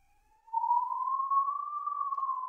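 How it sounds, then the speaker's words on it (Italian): An ambulance siren passing outside: a single sustained wailing tone that rises slightly and holds steady for about two seconds, moderately loud but distant-sounding, with no voices over it. "Sta passando un'ambulanza, penso che si sente."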